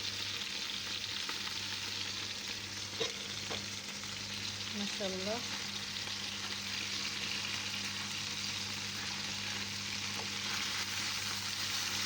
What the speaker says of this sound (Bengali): এই পাশে আমি মুরগির গোশটা ভাজি করতে আসছি।